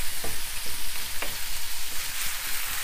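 Minced beef and green beans fry in a pan with a steady, dense sizzle and a few soft stirring knocks, close and even throughout.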